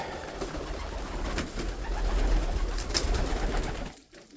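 White homing pigeons coo steadily in a new pigeon loft, several birds close by with soft overlapping calls and rustling throughout, fading quieter at the very end.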